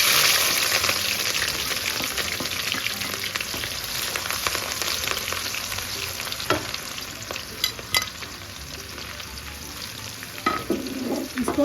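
Whole spices and aromatics (cardamom, cinnamon, black pepper, cloves, cumin, garlic, ginger and green chillies) sautéing in hot oil for a chicken biryani, giving a steady loud sizzle with stirring scrapes throughout.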